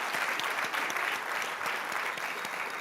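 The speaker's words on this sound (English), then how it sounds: "Can we just clap for you guys?" Sustained applause from a conference audience at a Young America's Foundation event, dense and even clapping that fills the room, loud and continuous throughout with no pauses.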